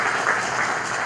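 An audience at a Gita seminar in Lucknow claps for newcomers, a dense, steady burst of many hands applauding together, close and fairly loud.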